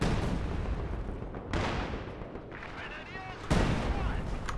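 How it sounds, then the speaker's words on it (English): Long-range artillery in Company of Heroes 2 fires into fog with heavy scatter, booming in a few broad, spaced blasts over battle noise while a commentator talks. "Is this barrage onto the MG? Firing long range into the fog"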